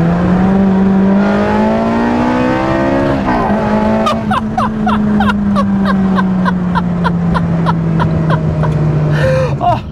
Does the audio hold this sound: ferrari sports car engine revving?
yes